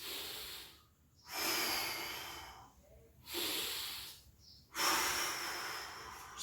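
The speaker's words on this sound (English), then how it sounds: "forcefully breathing to create that TVA or TA contraction" Three forceful exhales, loud and close, with short pauses between them, made during a transverse abdominis core exercise, each one a long hissing rush of breath.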